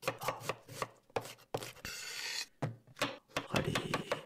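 A knife chops onions on a board in quick close taps, in uneven clusters with a brief scraping pass partway through, crisp and intimate with no voices.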